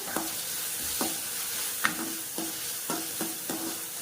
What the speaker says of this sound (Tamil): இப்போ இந்த வெங்காயம் வதக்கிட்டு இருக்கும்போது நான் இதில் வந்து இஞ்சி பூண்டு பேஸ்ட் போட்டுக்கிறேன்